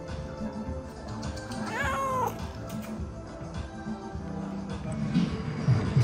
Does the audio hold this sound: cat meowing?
yes